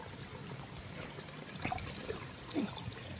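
A small creek trickles softly along a suburban hiking trail, a faint steady stream of water with a few gentle gurgles and drips toward the end, with no talking over it.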